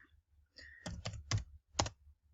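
Several crisp clicks of typing on a computer keyboard land one after another in a quiet room, with no talk.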